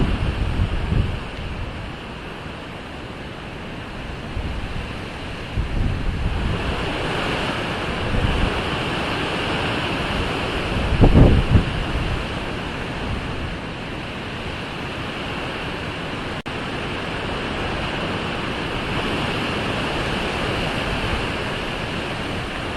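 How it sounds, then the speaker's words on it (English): Strong, sudden wind roars outdoors during a night-time ghost hunt, a continuous broadband rush with gusts and heavy buffeting against the microphone, loud throughout with no voices. "the wind, as you can see, out of nowhere, has just picked up really,"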